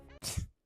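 A single short sneeze bursts out near the mic, a sharp breathy blast with a brief voiced tail, preceded by a moment of faint voice and ending in silence.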